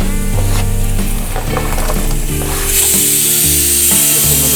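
Chopped garlic and onion sizzle steadily in hot oil with spices while being stirred for egg curry fried rice, a loud continuous crackle with scraping strokes throughout.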